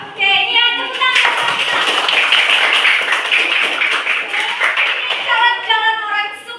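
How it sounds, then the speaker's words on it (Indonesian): Students in a classroom clap their hands in a fast, crisp burst lasting several seconds, loud and close, with a few voices around the edges. "ini yang tepuk tangan"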